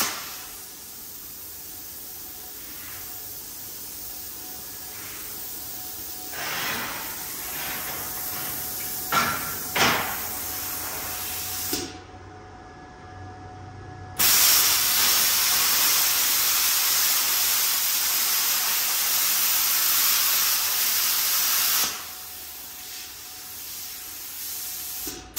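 A YesWelder YWM-200 plasma cutter running at 35 amps on 220 volts with 60 psi air slices through steel, a steady loud hissing rush broken by knocks and clatter, a brief silent gap, then a long continuous roaring hiss.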